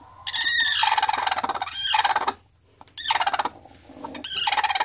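A chicken clucks and squawks in loud, rhythmic bursts, with short pauses between three close-up runs of calls.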